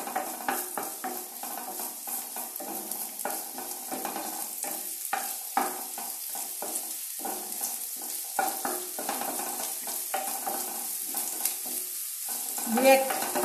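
Chopped ginger and garlic frying in a pan for chicken Manchurian, a continuous close sizzle broken by rapid repeated scraping strokes of a spatula.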